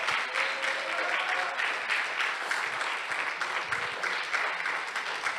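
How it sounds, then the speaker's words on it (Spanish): Congregation applauding at a Spanish-language church service, a dense, steady wash of clapping filling the room for several seconds, with faint voices mixed in underneath. "Si le vas a dar un aplauso al Señor, dáselo."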